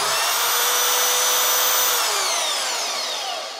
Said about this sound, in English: Now I got myself a metal cutting bandsaw